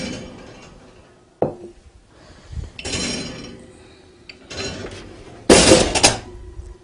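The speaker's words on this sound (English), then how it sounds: "and we'll take it out. Our pan has been in here for 20 minutes." A hot bread baking pan is pulled from an oven after twenty minutes of preheating, with a sharp metallic clank, scraping and rattling of metal against the rack, close up and without talk.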